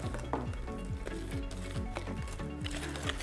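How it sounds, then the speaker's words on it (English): Thick avocado and banana brownie batter stirred in a bowl, a repeated wet swishing and scraping in an even rhythm, close and fairly quiet with no talk. "you want to just stir that all up to combine it"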